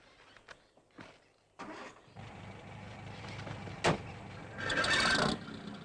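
A car engine cranks and catches after a few short bursts, then settles into a steady running rumble that rises in a final rev, heard close with no talk.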